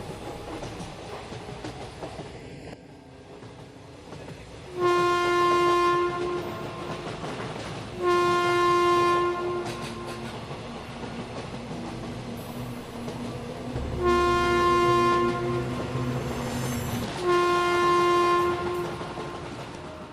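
A train horn blows four long, loud blasts over the steady rumble and rattle of a passing train.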